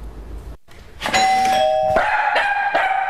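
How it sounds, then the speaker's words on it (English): A house doorbell rings in a home with two dogs, giving a loud chiming ding-dong with sustained ringing tones and a second strike, heard alone without talking. "When the doorbell rings, does your dog bark and or run to the door?"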